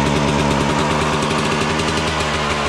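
A dune buggy engine runs on choke close by, a loud steady idle with a rough, pulsing rhythm throughout.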